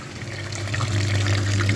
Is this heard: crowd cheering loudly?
no